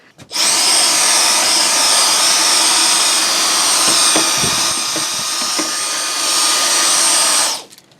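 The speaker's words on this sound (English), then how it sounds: "I like to take a vacuum and vacuum out the inside of the vent" A vacuum cleaner running loud and close while cleaning out the inside of an RV roof fan vent: a steady, high whining roar that starts abruptly, holds level with slight pitch wavers as the nozzle moves, then cuts off.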